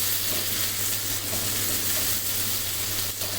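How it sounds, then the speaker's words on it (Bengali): Spinach and rice mixture sizzles steadily in a pan while being stirred, a continuous close frying hiss with a low hum underneath and no talk. "এটা দিয়ে এখন আরও দুই মিনিটের মতন নেড়ে চেড়ে রান্না করে নিতে হবে"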